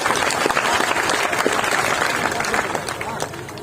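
A crowd at a Teja Dashami gathering in Rajasthan applauds to honour the guests on stage, with steady clapping mixed with crowd noise throughout.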